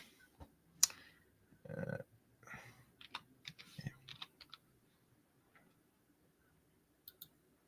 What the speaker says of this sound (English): Let me type in Fani.